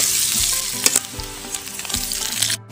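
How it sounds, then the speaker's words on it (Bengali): Boiled potatoes with turmeric and Kashmiri chili powder stir-fry in hot oil, a busy crackling sizzle broken by scraping and knocks of a spatula against the pan, close and fairly loud. "এবার নাড়াচাড়া করে ভাজবেন যতক্ষণ না"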